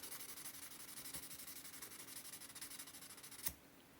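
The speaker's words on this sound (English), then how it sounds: "So we're going to have to sand heavy with the 1500" A Bear and Son 4-inch Barlow pocket knife is sanded with 1500 grit sandpaper, giving a faint, close, rhythmic back-and-forth rasping, with one brief sharper scrape near the end.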